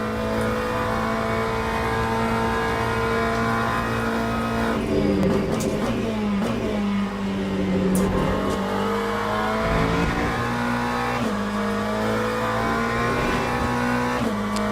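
McLaren GT race car in Le Mans Ultimate, its engine droning steadily at high revs with gear shifts and pitch swings as it accelerates and brakes through corners, loud and continuous throughout.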